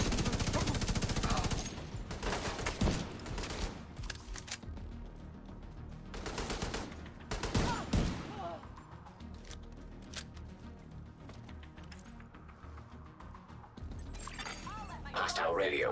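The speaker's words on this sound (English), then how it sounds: "I hear gunfire." Gunfire in The Division video game, with dense bursts of automatic fire and sharp shots in clusters, separated by quieter stretches of background game sound.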